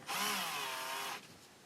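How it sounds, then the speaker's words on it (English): A power drill whirs steadily for about a second, a high, close-up motor whine that cuts off abruptly and leaves a quiet tail. "Drill that hole."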